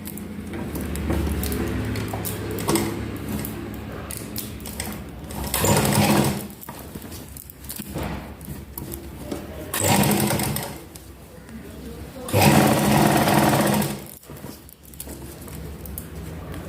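A sewing machine stitches a loose basting seam along a garment's front neckline, running in several short, loud, close bursts between quieter pauses of handling and light background noise.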